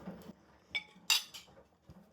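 A few sharp ceramic clinks and clatters as a plate is set down into a kitchen sink, with brief gaps of quiet between the knocks.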